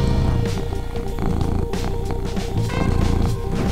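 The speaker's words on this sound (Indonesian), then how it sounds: "Dengkuran atau suara getar menunjukkan keinginan untuk kontak lebih dekat dan mencari perhatian." A domestic cat purrs steadily and close, a continuous rumbling vibration filling the whole stretch with no talk over it.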